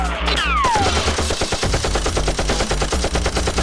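Toy Nerf blasters fire in a SWAT-style play battle, a loud continuous stream of rapid, evenly spaced bursts like automatic fire. A falling electronic whine opens the sequence, and nobody speaks.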